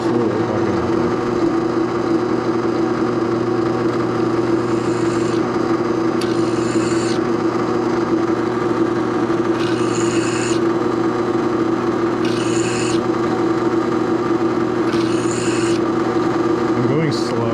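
A drill bit turns slowly through a workpiece in a knife-making shop, a constant motor hum with a grinding rasp, broken by a few short, bright bursts of higher scraping at regular intervals.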